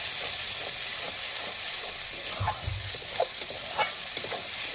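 Masala frying in a pan with sour curd, a continuous close hiss and sizzle with occasional soft spatula scrapes and small pops breaking through.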